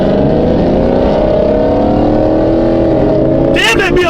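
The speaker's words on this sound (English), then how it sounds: "Damn, that BMW fast as fuck." A BMW car speeds by on a highway near a car meet, its loud engine roaring steadily and climbing slightly in pitch, with a few sharp bursts of noise near the end.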